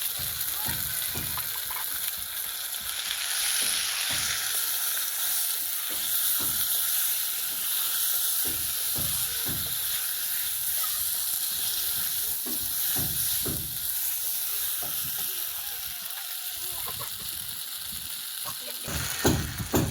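Spice paste and red chilli powder frying in oil with potatoes for a Bengali rui fish curry, a loud steady sizzle and hiss with stirring clatter near the end and some speech mixed in.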